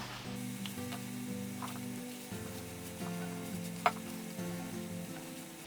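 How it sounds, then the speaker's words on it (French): Small yeast-free flatbreads frying in a non-stick pan give a steady close sizzle with soft crackles and a few light scrapes, and one brief sharp tick partway through. "Et ensuite on va venir les cuire dans une poêle anti-adhésive."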